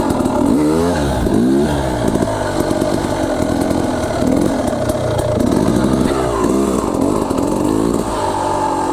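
An enduro dirt bike engine held on the throttle and clutch during slow, technical off-road riding gives a loud, steady buzzing drone with repeated rising and falling revs, close by, with no talking.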